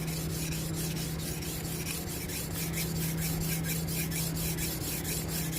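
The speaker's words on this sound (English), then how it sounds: "Enjoy the sounds of sharpening." A badly damaged cleaver being sharpened, giving a steady, continuous rasping rub of steel on a stone with regular strokes, close and alone under a constant low hum.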